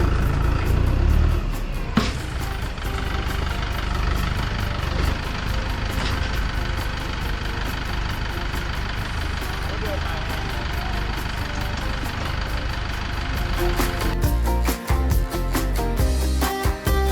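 A tractor engine idles with a loud, steady low rumble while a building is being moved, and voices can be made out faintly beneath the continuous drone.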